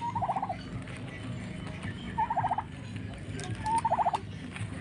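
A turkey raised for natural production gobbles three times in quick rattling bursts, spaced a couple of seconds apart, moderately close over a low background hum.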